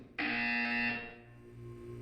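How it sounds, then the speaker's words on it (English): A single loud electronic buzzer in Portal 2 blares for about a second, then fades into a lingering hum. "When you hear the buzzer, look up at the ceiling."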